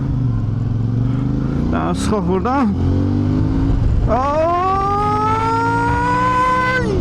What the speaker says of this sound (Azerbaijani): 450 cc 2 silindirli motor öz sözünü deyir.